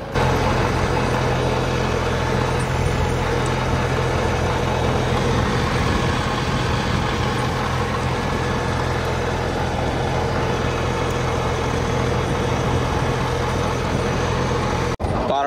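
Tractor engine rumbling steadily in a muddy grape vineyard after rain, a loud, continuous low diesel drone that holds unbroken throughout.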